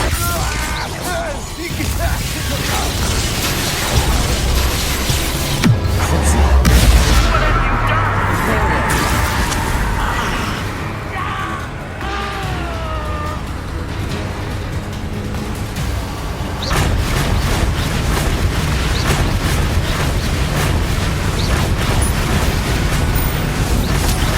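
Explosive spells blasting during a boss fight in the Hogwarts Legacy video game, dense booming impacts and crackling effects layered under continuous music and game voices, with a low rumble swelling mid-fight.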